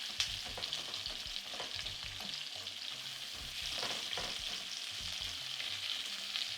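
Sliced onions frying in oil in a pan, a soft continuous hiss and crackle with faint occasional stirring, close but quiet, without any talk.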